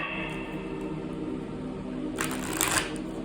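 Tarot cards riffle in a brief, quiet shuffle near the end, a crisp flutter over low background hum.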